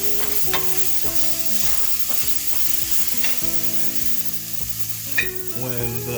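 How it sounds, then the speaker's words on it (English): Crushed garlic and onions sauté in a pan for pork chops, giving a steady, close sizzle, with spoon stirs and clinks of utensil against the pan cutting through. "And we're going to add 2 crushed garlics to it. Saute that for a couple minutes."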